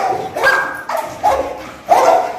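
A pitbull barks loudly and close by, giving three or four sharp barks in quick succession with short gaps between them.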